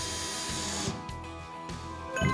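A power drill drives screws into wooden boards while a pet bed is assembled, a short whirring run with brief pauses and a final bite, close and loud.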